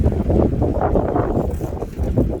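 Strong outdoor wind buffets the microphone in a continuous low roaring rumble with gusty surges while a chicken coop is being assembled outside.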